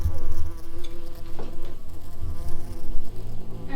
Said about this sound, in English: wasps are a problem here, and you can see we have a friend right here, even at 30 degrees.